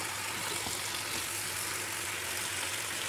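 Sheep meat being stirred in a pot for kabsa, a steady sizzling and frying hiss, faint and continuous, with no voices.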